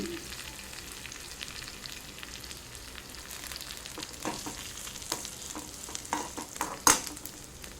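Grated coconut stirred and roasting in a hot pan with the gas turned off, a soft steady sizzle broken by scraping stirs and a few sharper clicks of the utensil, close up and with no talking.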